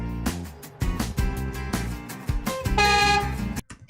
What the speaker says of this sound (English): He added that train horn.